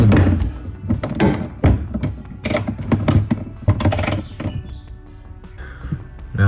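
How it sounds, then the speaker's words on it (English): Tail light bolts on a Porsche Boxster being tightened with an 8mm wrench, giving a series of close, irregular metallic clicks, ratcheting and knocks in short bursts, with brief pauses and no talking. "The right hand side is the same process, using 8mm. Adjust the outside most bolts first and tighten a little bit."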